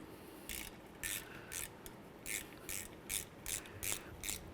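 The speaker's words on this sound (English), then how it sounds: "Nice long ratchet did the trick." A long ratchet clicking as it backs out a small 8mm bolt from the rear brake backing plate of a 1999-07 Chevy Silverado, about ten close, steady bursts of ratcheting with no talking.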